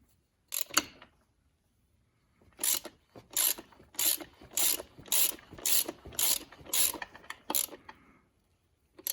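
A ratchet tightens the nut on the flywheel of a 1998 Suzuki RM250 dirt bike: one short clicking burst, a pause, then a quick run of about seven rhythmic ratcheting strokes, close and clear.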